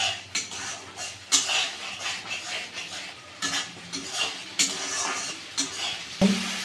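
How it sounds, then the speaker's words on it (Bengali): A spatula repeatedly scrapes and stirs spice paste in a pan over a high flame for fish-bone curry, giving close, rhythmic strokes with a light sizzle and metal clinks. "তুলে নিয়ে মশলাটাকে আমি এখান থেকে ঘাঁটছি"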